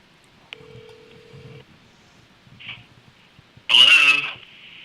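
A telephone number is dialed with a few tonal beeps, then a ringback and a loud, distorted burst through the handset, with faint talk in the background.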